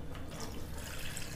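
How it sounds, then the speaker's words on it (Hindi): Water runs steadily into a pressure cooker holding mutton for yakhni pulao, a soft continuous pour at moderate distance with no talk. "इसके बाद हम कुकर में पानी ऐड कर देंगे।"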